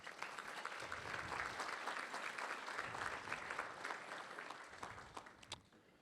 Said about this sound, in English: let's give Kevin a big round of applause